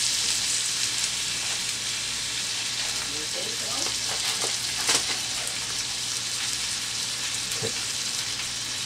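Leftover baby back ribs fry in hot fat in a pan, a constant close sizzle and crackle with occasional louder pops and spits as the meat is lifted with tongs.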